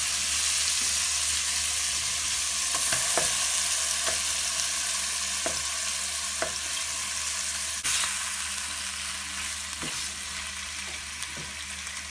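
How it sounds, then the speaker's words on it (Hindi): Ginger-garlic paste and chopped tomatoes fry in hot oil for masala chicken, giving a steady broadband sizzle with a few soft clicks of stirring scattered throughout. No one speaks. "टमाटर डाल के हम इसको भून लेंगे कि टमाटर हमारा नरम हो जाए"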